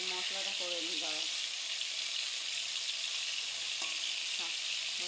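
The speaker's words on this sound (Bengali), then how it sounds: "তেল ভালোই গরম হয়ে গেছে, এবার মশলাটা করে নিই গরম।" Spices sizzle and fry in hot oil in a village kitchen, a steady bright hiss filling the clip with brief tonal clinks near the start and end, a quiet voice faintly underneath.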